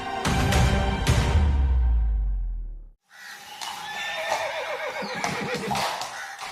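Horses of the President's Bodyguard in India neigh loudly and close by, with a long shrill whinny followed by further neighs and a short gap between calls, and no talking.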